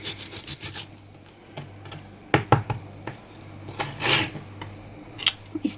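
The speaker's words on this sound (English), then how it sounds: "I'm going to try and slice it into slivers." A knife slices fajita ingredients into thin slivers on a cutting board, heard as short, irregular scraping and tapping strokes at close range.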